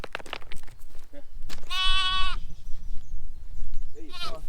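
A sheep bleats loudly and close by in one sustained, wavering call lasting about half a second, while a dog scuffles and people talk in the background.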